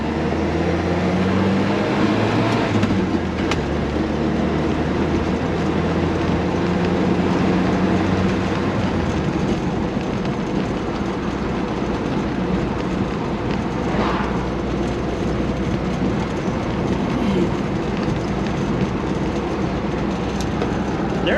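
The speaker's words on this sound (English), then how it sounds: "Oh, the tranny is loud." A loud, steady mechanical drone with a deep rumble and a constant whine from an old Jeep's transmission, parked for 15 years, running continuously throughout with no talking.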